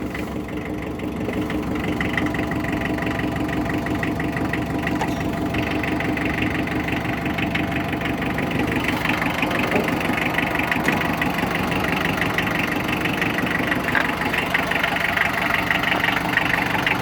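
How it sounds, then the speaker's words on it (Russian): A four-cylinder Mitsubishi tractor engine idles steadily with a low, even knocking rumble, holding a constant rhythm throughout. "Четыре цилиндра, как вы слышите, работают очень приятно."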